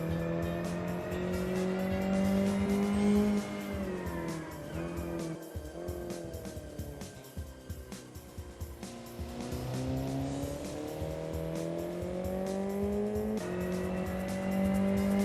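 A car in the BeamNG driving game races downhill on Mt. Akina, its engine revving steadily and rising and falling through gears while tires squeal through the corners, loud and continuous with no talking.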